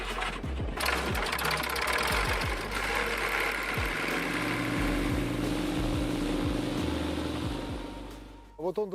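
The small engine of an Icon A5 light aircraft cranks and catches, then runs at a steady buzzing idle close by, with some voices underneath.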